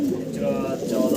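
Farm pigeons coo in low, repeated throaty calls from birds kept in cages, continuous across the moment, with faint human voices in the background.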